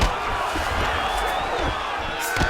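Arena crowd in the UFC 5 video game roars and cheers steadily throughout a fight, with a few sharp thuds near the end.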